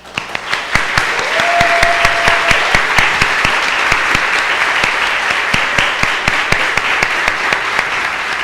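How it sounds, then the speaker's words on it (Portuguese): A seated audience at a Spiritist youth evangelization gathering breaks into sustained applause, a dense steady roar of many hands lasting several seconds with no talk over it. "Eles merecem uma salva de palmas."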